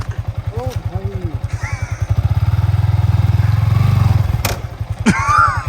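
Motorbike engine chugging in rapid, loud pulses while riding slowly over rocky ground, the throttle swelling in the middle with clatter, under excited talk from riders.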